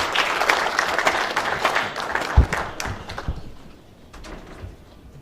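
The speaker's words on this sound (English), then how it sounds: "A warm hand clap as he comes aboard." Hand clapping from an assembled audience welcoming a minister-designate, dense and steady at first, then thinning out and fading over the final seconds.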